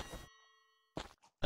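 A bell rung in the video game Ankh, a single clear ding ringing out and fading between short bursts of game noise, with no talking over it.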